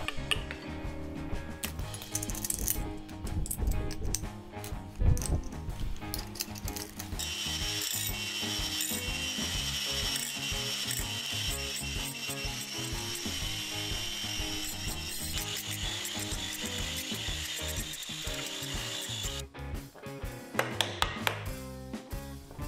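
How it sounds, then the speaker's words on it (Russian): Angle grinder having its cutting disc swapped for a flap disc during a DIY metal table-leg build; close ratcheting, clicking and rubbing mechanical sounds continue steadily without any talk. "Теперь берем вот такой зачистной диск и ставим вместо отрезного."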